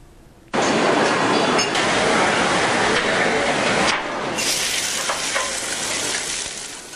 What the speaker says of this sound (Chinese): 牛排在烧红铁板上滋滋作响